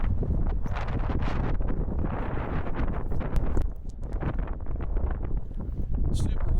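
Strong wind during a photography workshop outdoors in Iceland, a loud continuous rushing roar buffeting the microphone, with a person talking over it.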